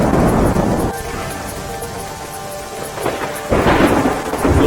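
Heavy monsoon rain pours in Narmada, Gujarat, with loud rolling thunder rumbling throughout and the downpour swelling near the end, close and steady without voices.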